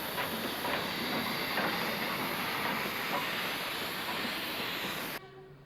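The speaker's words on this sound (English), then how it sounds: "both locomotives team up to haul the Viceroy Special" Two steam locomotives team up to haul the Viceroy Special train on an Indian railway, giving a loud, continuous hissing roar with faint rhythmic clatter. It holds steady for several seconds and then cuts off abruptly.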